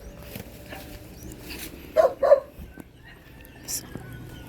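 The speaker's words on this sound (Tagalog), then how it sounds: "May aso." Outdoors near newly built houses and pineapple plants, a dog gives two short barks from a moderate distance, and a faint yip follows, over steady outdoor background noise.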